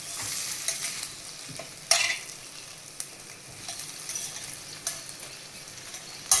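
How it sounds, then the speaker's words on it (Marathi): Masala-stuffed brinjals fry in oil with a constant soft sizzle while a spoon stirs them gently, giving a few sharp clinks and scrapes against the pan, with no voices. "आता ही वांगी चांगली अलगद हलवून घेऊया."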